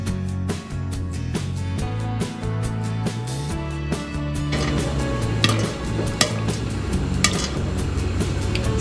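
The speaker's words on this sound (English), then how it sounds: "you start hearing the popcorn slowing down to only 1 pop every 1 or 2 seconds" Popcorn kernels pop in a pot, with sharp pops against a busy background of stirring and clinking, with no talking.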